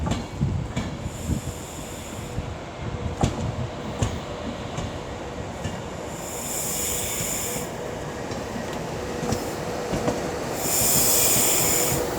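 A Class 158 diesel train rumbles steadily into Wolverhampton station, wheels clattering and squealing on the rails, with hissing brakes and metallic clanks along the way.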